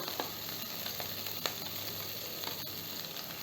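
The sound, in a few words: onions added to a hot pan, sizzling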